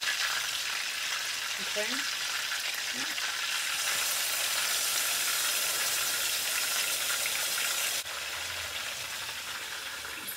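Turkey thighs laid skin down in hot oil sizzle and fry loudly in a pan, a continuous close crackling hiss that swells slightly as pieces are added, with a brief spoken word partway through.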